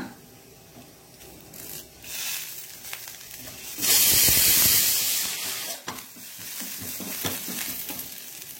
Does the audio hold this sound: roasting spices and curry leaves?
yes